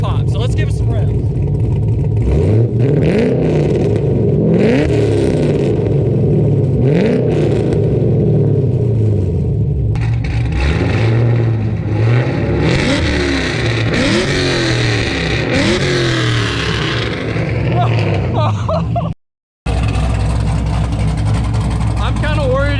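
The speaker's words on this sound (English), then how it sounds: "We're just gonna rev this thing the way it is now with mufflers and an H pipe" Camaro V8 with mufflers and an H-pipe exhaust revved repeatedly in blips, deep rumbling rises and falls close to the microphone, with a brief cut near the end before the idle resumes.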